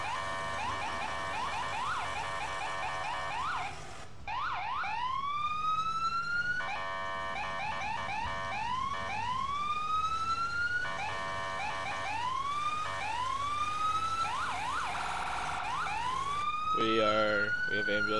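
Ambulance and police sirens wail and yelp in EmergeNYC, a New York emergency-response game, repeating rising sweeps and rapid warbles, loud and close, cutting in and out with short gaps between cycles.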